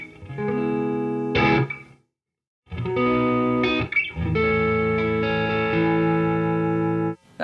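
Electric guitar played through a Universal Audio OX Box with the room mics turned up high, giving sustained distorted chords with a roomy ambience, a brief gap of silence, then more ringing chords played alone.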